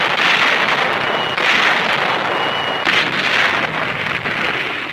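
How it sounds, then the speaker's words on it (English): German guns open fire during a wartime landing in old archive film, a continuous dense roar of rumbling barrage and crackling blasts that stays loud and constant throughout. "The minute the German guns opened up,"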